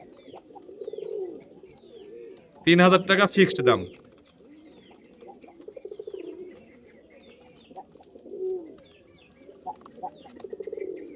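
Roman pigeons, including a very large female fancy pigeon, coo in soft repeated low phrases, while a person talks over them and a short loud burst of sound cuts in partway.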